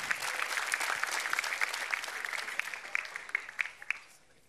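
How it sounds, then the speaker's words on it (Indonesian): Audience applause for Ustadz Taufikur Rahman at a televised stand-up comedy open mic, a dense crowd clapping steadily with a few sharper claps near the end before it fades out. "beri tepuk tangan yang meriah untuk Ustadz Taufikur Rahman"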